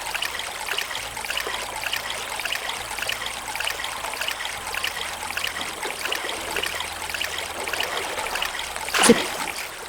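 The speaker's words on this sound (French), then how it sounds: "je vais répéter l'expérience pour remplir mes bouteilles d'eau" Water pouring and trickling steadily as bottles are filled in an open-world survival video game, a continuous gurgling stream with a brief splash near the end, no talking.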